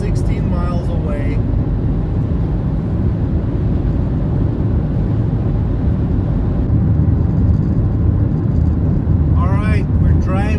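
A car travels along a highway toward Spokane, its steady road and engine rumble filling the cabin continuously and loud, with brief voices speaking at the start and end.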